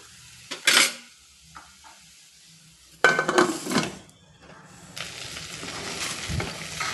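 A lid is set on a cooking pot of coconut-milk pulao, giving a sharp clatter near the start and another at about three seconds, then a low steady simmer.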